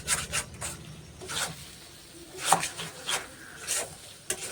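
A thick homemade laddu mixture is stirred and scraped around a kadai, giving soft rubbing and rasping strokes in an uneven rhythm, close and fairly quiet.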